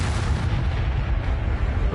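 A loud, sustained blast booms through a spell-fight in the Hogwarts Legacy game on PS5, with dense low rumble and crackle filling the whole two seconds without a break.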